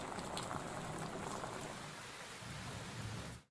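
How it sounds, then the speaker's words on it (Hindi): Steady rain falling in the Shahdol region of Madhya Pradesh, a dense continuous hiss and patter filling the whole stretch, even and fairly loud with no voices. "आज सुबह से ही बारिश का दौर जो है जारी है शहडोल संभाग में"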